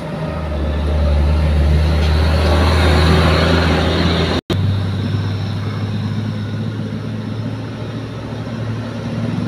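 A Fuso truck passes on a road, its loud low engine drone and tyre rumble filling the whole stretch, a brief cut midway, then continuing as a steady roar.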